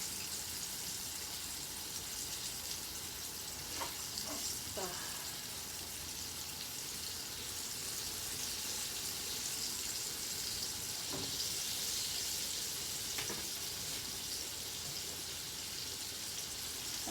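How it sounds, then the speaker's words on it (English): A flour-dredged chicken parm cutlet frying in a pan, a constant soft hiss and sizzle with a few faint pops and clinks of movement, heard at a low level. "I'm gonna let that fry till it's nice and golden brown"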